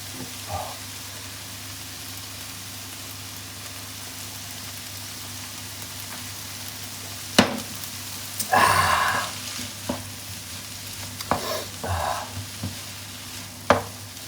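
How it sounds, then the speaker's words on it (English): A fish and vegetable stir-fry with olive oil sizzles steadily in the pan, broken by a few louder scrapes and clatters as it is stirred, close and alone without talk. "This is going to be a fish stir fry"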